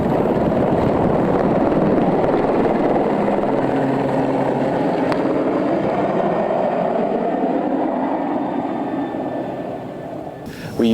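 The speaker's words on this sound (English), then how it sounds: "We use helicopters." Helicopter flying through high mountains around 1,500 meters, a loud, steady rotor and engine drone that holds close for most of the stretch, then eases slightly before a brief burst at the very end.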